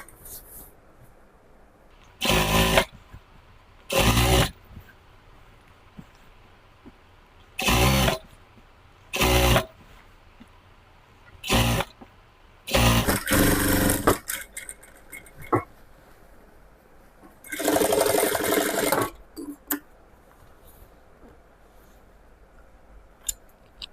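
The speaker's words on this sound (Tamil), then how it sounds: "இதை அப்படியே மடித்து மேலே ஒரு படிமான தையல் போட்டுக்கலாம்" Pant fabric is folded and topstitched on a sewing machine, which sounds in short, loud separate bursts of rapid stitching. Longer runs come near the end, with quiet handling between them.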